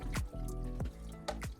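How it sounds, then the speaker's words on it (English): Water runs and drips into an RV toilet bowl as it fills, with a few distinct splashy gurgles and trickles close by, no talking. "filling the toilet up a bit"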